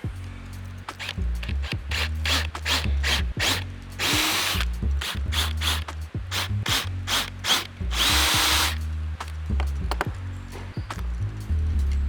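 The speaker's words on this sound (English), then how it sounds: "with a 6mm drill bit again" A power drill with a 6mm bit whirs in repeated short bursts, with two longer, harsher grinding stretches as the bit bites in, close and loud with no voices.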